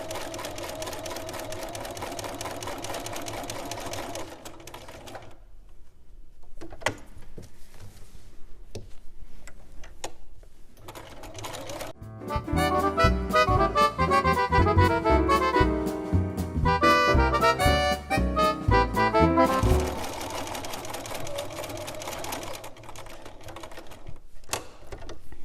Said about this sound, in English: I'm just going to use my finger to guide the sewing, keeping the outside of the presser foot in line with what I'm feeling underneath as being the edge of the necktie